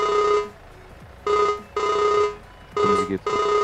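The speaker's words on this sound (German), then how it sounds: "Oh, ihr Handy klingelt." A mobile phone rings on a farm in a loud, close electronic tone. It repeats in regular bursts of about half a second, and one ring is overlapped by a brief clatter.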